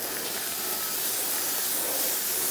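Burgers and onions with butter and cooking spray sizzle on a portable Royal Gourmet two-burner porcelain gas griddle at a camp, a steady close hiss that holds without pause.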